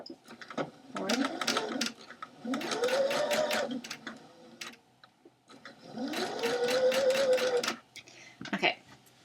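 A sewing machine runs a straight stitch through scarf fabric in three close bursts of rapid mechanical clatter, each rising and falling in pitch, separated by short pauses and a final brief run.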